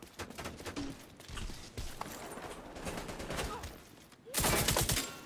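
Gunfire in The Division 2 breaks out as rapid bursts of shots over a busy game background, ending in a louder, denser volley.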